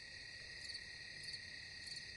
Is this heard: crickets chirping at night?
yes